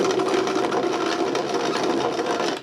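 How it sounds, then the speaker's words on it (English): A shop-built box joint jig runs steadily, its gear turning a threaded rod so the carriage slides along, giving a loud, continuous mechanical whir with a fine rapid rattle and no talk. "So the idea here is this gear turns a threaded rod which makes the carriage slide back and forth."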